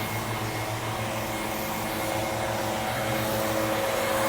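Track blowers running at a drag strip, a steady, loud broadband whoosh with a constant tonal hum, unchanging throughout with no talk.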